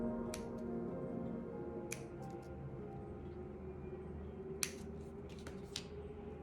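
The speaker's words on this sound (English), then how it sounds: "I like using my fringing scissors for this." Quiet snipping of fringing scissors cutting crepe paper, a few separate crisp cuts spaced apart over a low steady background hum.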